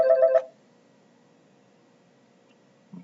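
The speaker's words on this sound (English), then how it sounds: "Now you can hear my phone ringing over here." A desk phone gives a short ring burst of bright repeated electronic tones, close and clear, then falls silent apart from a faint steady hum.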